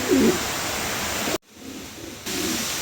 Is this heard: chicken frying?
no